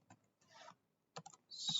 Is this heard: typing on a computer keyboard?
yes